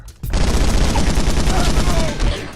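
Rapid, dense bursts of assault rifle gunfire in the shooter video game Fugitive Hunter: War on Terror, loud and continuous after a brief quiet start, with no speech over it.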